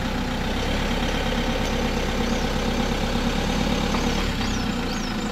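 Motorhome engine idling steadily in drive while the vehicle creeps slowly forward, a constant low rumble throughout with no voices.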